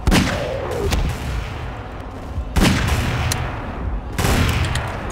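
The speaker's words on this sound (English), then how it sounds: "I'm shooting him point blank in the fucking face!" Point-blank gunfire in the Garry's Mod video game: three loud, sharp bursts of shots, each trailing into a rumbling decay, close and dominant.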